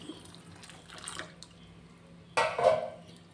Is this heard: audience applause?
no